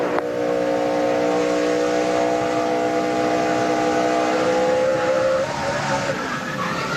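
NASCAR race truck engine heard onboard on the track, a loud sustained high-revving whine that holds steady under throttle before easing off near the end.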